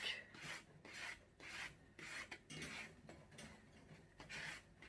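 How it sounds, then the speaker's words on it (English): A sanding block scrapes back and forth across a chalkboard's ridges in a steady rasping rhythm, quiet and close, with no talking. "my sanding block again, and I'm just going to rub a bit off"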